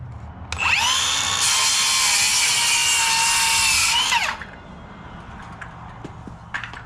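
A power saw cuts an angle through the metal frame of a boat trailer being rebuilt as a farm utility trailer, giving one loud, close, steady whining run of about four seconds that rises and falls with the cut.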